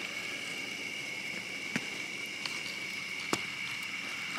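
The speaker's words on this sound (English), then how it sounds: "Yeah, it's rain." Steady rain patters through the night outdoors, a dense even hiss with two brief sharper drips or taps standing out, no voices present.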